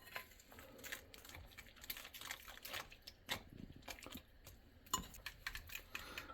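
A whisk clatters against a bowl while batter is mixed for coconut shrimp tempura, giving quiet, irregular metallic taps and scrapes that keep going with a few sharper clinks.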